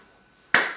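A single sharp hand clap, close and crisp, coming after a moment of near silence.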